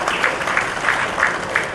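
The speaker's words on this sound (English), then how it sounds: "please give them an applause" Audience at a medical association felicitation ceremony applauds committee members, a dense, steady clapping from a sizeable crowd with slight periodic swells in intensity.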